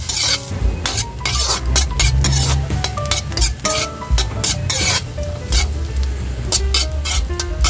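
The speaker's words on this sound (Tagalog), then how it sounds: "Kainit na guys yung ating mantika, kaya ilagay na natin yung ating luya." Ginger sizzles steadily in hot cooking oil while being stirred, with a continuous close frying hiss broken by frequent scrapes and light metallic clinks of a utensil against the pan, and no talking.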